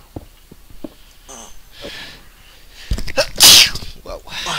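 A single loud, sharp sneeze bursts out after quiet shuffling and faint sounds, close to the listener.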